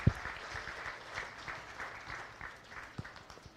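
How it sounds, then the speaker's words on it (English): Audience applause at a county fair beef show as a young man's heifer is named champion, moderate and steady steady clapping in a large space with a few sharper thumps. "let's give a big round of applause here to the young man"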